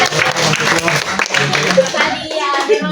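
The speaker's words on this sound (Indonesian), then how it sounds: "beri tepuk tangan untuk Angga." A classroom of students claps for a classmate, a short burst of hand clapping that sits under and between voices and fades out near the end.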